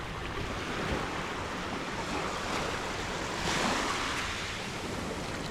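Ocean waves on a beach at Maafushi island in the Maldives, a continuous broad wash of surf with some wind rumble on the microphone, near and fairly loud, no talking.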